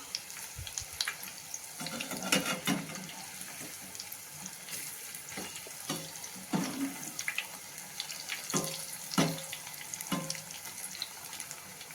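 Marathi-style ridge gourd fritters fry in hot oil, giving a continuous crackling sizzle with scattered pops and occasional clinks as the pieces are turned, close and moderately loud with no talk.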